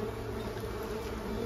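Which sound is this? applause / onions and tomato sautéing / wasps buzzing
wasps buzzing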